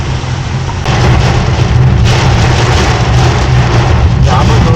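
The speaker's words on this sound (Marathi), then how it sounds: "पाऊस तर भरपूर पडतो तीन ते चार घंटे झाले पाऊस भरपूर चालू आहे" Heavy, hours-long rain pours over a car driving along a flooded highway. The roar is dense and constant, with the low rumble of the vehicle underneath.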